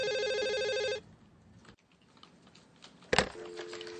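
An office telephone rings with an electronic trill that stops after about a second, followed by faint room noise, a sharp clatter like a handset being lifted, and a brief, quieter tone.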